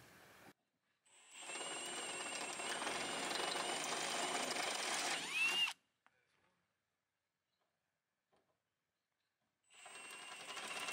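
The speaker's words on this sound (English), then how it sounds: "Drill this." A power drill whirs loudly and steadily for several seconds while drilling bolt holes in a vehicle canopy for camping lights, winds down into a pause, then starts up again.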